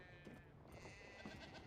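Goats bleat faintly in the survival video game Once Human, a couple of soft wavering calls over a low steady background hum.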